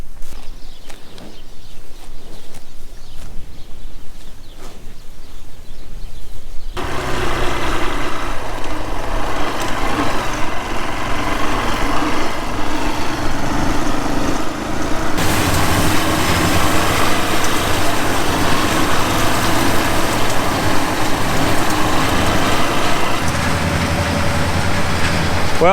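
Farm machinery for first-cut silage, a rake and a baler, pulls in with a deep, rumbling engine drone that swells loud and stays steady after a quieter opening.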